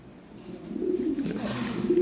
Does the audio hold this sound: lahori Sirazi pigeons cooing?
yes